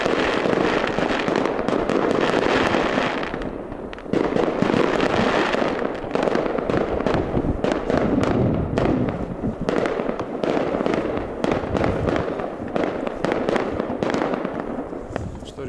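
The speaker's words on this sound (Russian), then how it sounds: "Что, ребят, вот такой салют." Fireworks burst repeatedly, close and loud, with crackling pops and booms layered over one another and faint voices in the background, at New Year in the taiga.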